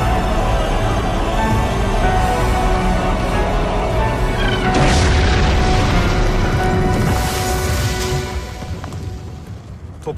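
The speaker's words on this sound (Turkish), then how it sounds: "Top atışı ağırlaştı." Heavy artillery fire from a Gallipoli 1915 war film: a dense, loud rumble of booms that swells into a sharper blast midway, then slowly thins out toward the end.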